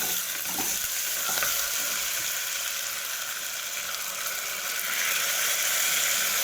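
Moong dal and foxtail millet tipped into a hot pan with curry leaves for thinai pongal, giving a loud, continuous hiss and sizzle with stirring, no talk.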